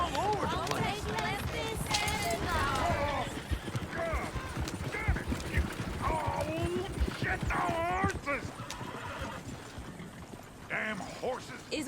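Horses in the Red Dead Redemption 2 video game, hooves clip-clopping steadily with occasional whinnies, heard close and loud under continuous overlapping voices of people talking.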